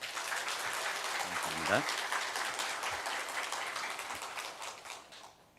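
Church congregation claps during a Sunday afternoon service, a moderate, diffuse patter that thins out toward the end, with a voice speaking briefly over it.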